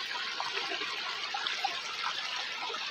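A village river flows in a steady, moderately faint rush of water, with small trickling splashes scattered through the even wash and no voices.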